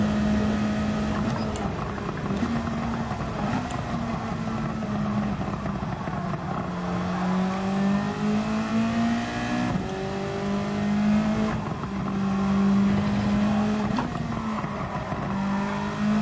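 A steady Gran Turismo 7 race car engine drones at high revs, pitch sweeping up and down with gear changes and throttle, loud and sustained without speech.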